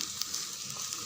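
Onion and garlic sauté in a pan as a short, quiet, steady sizzle with a faint stir, no voices.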